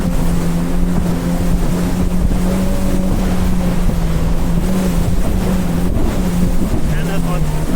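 A 2024 Yamaha VX Cruiser HO personal watercraft rides ocean waves off Sanibel Island, Florida, its engine droning steadily and loud with a wavering pitch, buffeted by heavy wind rush and slapping water.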